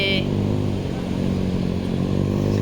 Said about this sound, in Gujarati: એ જો અહીંયા બાઈકો બી આવે છે